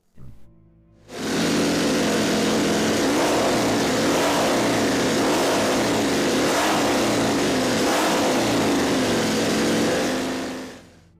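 A MotoCzysz C1 superbike engine, a MotoGP-style machine built by an enthusiast, revs loudly and steadily for about ten seconds with a deep V8-like tone, close and alone after a brief quieter start.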